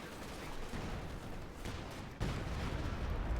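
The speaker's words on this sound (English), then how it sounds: "And there you go, Stukas is firing." A Stuka rocket artillery barrage in the Company of Heroes 2 war game: a dense, rumbling volley of launches and blasts, fairly quiet, with a sharper, heavier surge partway through.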